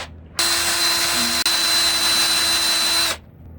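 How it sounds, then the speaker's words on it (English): A power drill bores a hole straight into the center of a wooden walking stick, a loud steady whine running for about three seconds with one brief dip partway through. "I'm going to drill a hole as squarely in the center as I can and go straight in"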